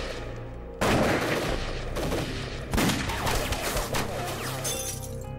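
Heavy gunfire in a Chinese anti-Japanese war film as a squad concentrates fire on an opposite hillside: dense overlapping bursts and cracks, loud and close, sustained for several seconds with brief lulls.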